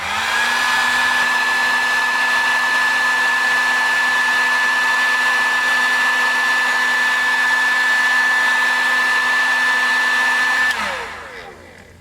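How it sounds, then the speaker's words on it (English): A heat gun blows steadily and loudly for about ten seconds with a constant whine while shrinking heat shrink tubing on a piece of wire, then cuts off and winds down. "You're going to want to move the piece of wire around the heat gun and heat both sides of the shrink so it shrinks uniformly."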